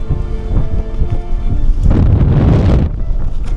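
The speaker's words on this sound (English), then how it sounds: "It's getting very windy now." Strong wind on a winter mountain hike in Senja's fjords buffets the microphone in heavy rumbling gusts, swelling into a loud roaring blast midway before easing slightly.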